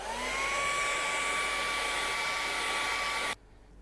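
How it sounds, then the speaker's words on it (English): A hair dryer blows steadily at close range over an acrylic painting on canvas, a constant whirring hiss with a faint tonal whine, running alone for about three seconds before cutting off abruptly. "so we'll grab our hairdryer and dry that."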